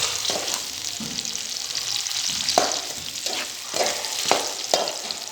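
Potatoes and onion sizzle steadily in a hot pan for aloo bhujia, with repeated scraping stirs every second or so cutting through the frying hiss, close and fairly loud, no voices.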